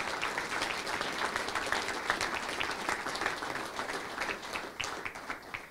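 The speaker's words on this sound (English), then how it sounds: "Let's again give these companies a great round of applause" Sustained applause from a large audience, steady dense clapping filling the whole stretch without pause.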